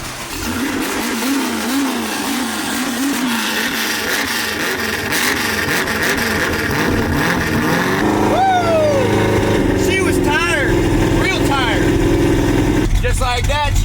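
A 1967 Ford Mustang engine cranks and catches, then settles into a loud, steady idle with occasional revs lifting the pitch, close by throughout.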